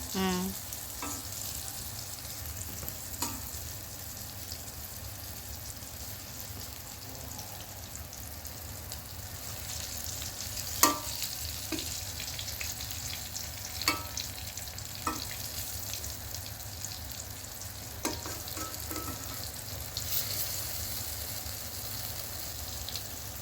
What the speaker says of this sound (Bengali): এরকম বেগুন ঘিয়ে ভাজলে অনেক মজা লাগবে না?